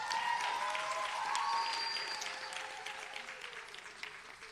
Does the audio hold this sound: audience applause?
yes